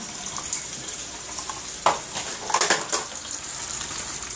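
Unfiltered tap water runs from a faucet in a kitchen, a soft steady hiss broken by a few brief louder splashes partway through, fairly close and with no talking.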